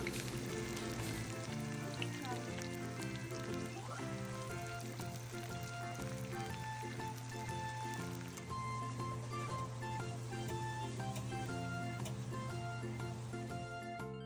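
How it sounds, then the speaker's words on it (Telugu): Onions fry in a pan for mutton dum biryani, giving a steady, close crackling sizzle with constant popping that runs evenly throughout without any voices. "ఆనియన్స్ని బాగా ఫ్రై చేసుకుందాం"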